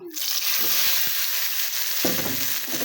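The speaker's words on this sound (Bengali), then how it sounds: "আমি এবার মশলাটা তেলে দিয়ে দিব" Spice paste hits hot oil and sizzles strongly, a steady bright hiss with a couple of soft stirring scrapes, close and without talking.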